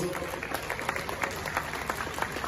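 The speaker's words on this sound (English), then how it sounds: "Shall we do a big round of applause?" Audience applause at a journalism award ceremony in Ghana as a documentary winner comes to the stage, a dense steady wash of clapping from a crowd, moderately distant, with faint voices mixed in.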